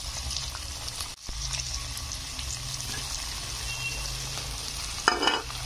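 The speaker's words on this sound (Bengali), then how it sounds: "এবার এটা দিয়ে আমি ভালো করে কষতে থাকি" Ground poppy seed spice paste sizzles and fries steadily in a pan for banana stem, with a brief scrape of stirring near the end.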